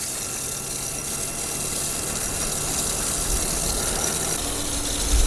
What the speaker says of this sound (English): once I start up the motor, it sounds horrific and the clutch slips non-stop.